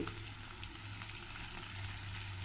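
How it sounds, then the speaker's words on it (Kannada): Onion, capsicum and tomato frying in a pan, a soft steady sizzle with faint crackling throughout, quiet and close with no speech. "ಟೊಮೆಟೊ ಸ್ವಲ್ಪ ಮೆತ್ತಗಾಗೋ ತನಕ ಇದನ್ನು ಒಂದು ಸ್ವಲ್ಪ ಚೆನ್ನಾಗಿ ಫ್ರೈ ಮಾಡ್ಕೋಬೇಕು"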